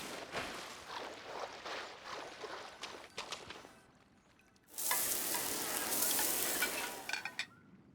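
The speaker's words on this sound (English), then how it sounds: "A fresh catch can go straight on the grill with minimal preparation, and it tastes delicious." Fish sizzles on a grill in a video game: a softer crackle first, then after a brief lull a louder, dense frying hiss that fades near the end.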